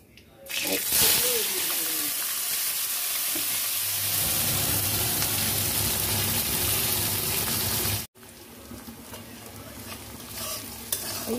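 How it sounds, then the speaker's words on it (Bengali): Steady sizzling of onions frying in hot oil until reddish, with stirring sounds, loud and continuous, briefly cutting out then resuming more quietly. "পেঁয়াজটা যেন একটু লাল লাল করে ভাজা হয়।"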